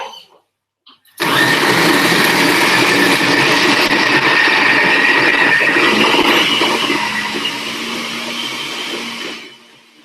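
A ThermoCook Pro kitchen machine mixes butter and flour into crumb, its motor starting abruptly with a loud, steady whirring roar that runs for about eight seconds before easing slightly and cutting off, with no talking.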